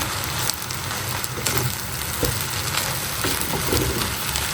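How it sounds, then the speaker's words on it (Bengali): Rice being stirred with soy sauce in a frying pan, a steady loud sizzle and frying hiss with scraping stir strokes throughout, close up and without talk. "রাইস দিয়ে দিলাম এখন খুব ভালো করে মিক্স করব সয়া সস বেশি উপর দিয়ে"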